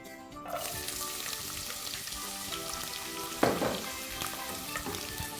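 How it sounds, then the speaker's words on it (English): Chopped onions hit hot ghee and fry with a continuous, close sizzle, punctuated by a brief scrape or clatter of stirring partway through. "Now the ghee is hot. I'm going to add my chopped onions."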